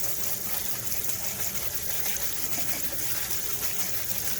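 Hot water runs continuously over beans in a kitchen sink as they are rinsed before going into a Dutch oven, giving a steady, close splashing gush with no pauses.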